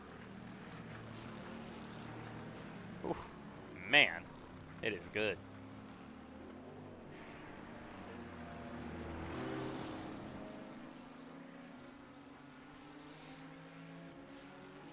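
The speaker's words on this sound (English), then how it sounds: "this is probably one of my favorite sounding cars in iRacing. It's Cadillac GTP." A Cadillac GTP prototype race car engine drones steadily in the iRacing simulator during a Daytona endurance race, fairly faint, with a man's short spoken reaction over it.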